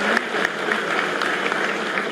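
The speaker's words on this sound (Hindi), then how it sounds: "मैं चाहूंगा कि आप सभी एक बार तालियों से उन्हें यह बताएं कि आप उनके प्रति कृतज्ञ हैं।" An audience at an inauguration event at MANIT Bhopal claps steadily in sustained applause, a dense patter of many hands with a few sharper individual claps standing out.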